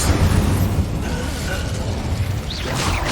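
An Incendio fire spell is cast in Hogwarts Legacy, giving a burst of whooshing, crackling flame with popping bursts over a dense backdrop of game effects.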